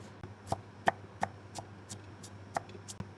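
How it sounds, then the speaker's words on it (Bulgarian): A knife chops onion on a board for tomato sauce, about nine faint, sharp knocks in an uneven but steady rhythm, close by in a quiet kitchen. "Режем лука, както го предпочитаме, ситно, едро, кой както иска."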